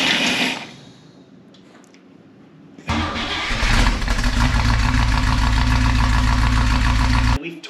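A 1964 Buick Electra 225 whose engine was damaged in a fire cranks briefly after a quiet pause, then catches and settles into a loud, steady close-up idle that runs for several seconds before cutting off.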